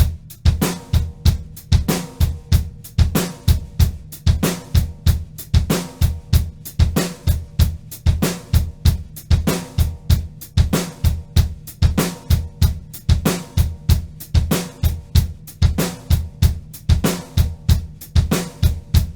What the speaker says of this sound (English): we're going to throw in 2 eighth notes with the bass drum on the and after 2 and the and after 4